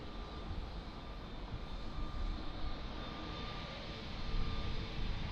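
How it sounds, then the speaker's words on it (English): A steady, distant roar from an airliner on its takeoff roll at Lisbon Airport, a broad engine rumble that holds even and swells slightly toward the end, with no voices. "Long takeoff roll."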